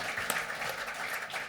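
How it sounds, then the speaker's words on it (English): Audience applause at a company annual general meeting, a steady wash of many hands clapping in a large room, moderately loud and brief. "I think that deserves a clap"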